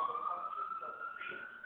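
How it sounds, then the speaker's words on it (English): A siren wails with a steady, slightly rising tone, heard faintly as if passing at a distance on a New York street near Harlem. "The siren is going past."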